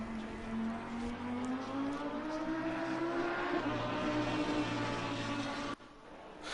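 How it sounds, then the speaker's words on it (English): A Lamborghini race car engine in a racing video game drones and climbs steadily in pitch through the gears at a moderate level, then cuts off abruptly near the end. "this Lamborghini sounds absolutely amazing"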